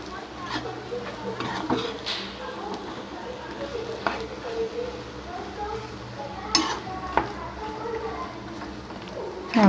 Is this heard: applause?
no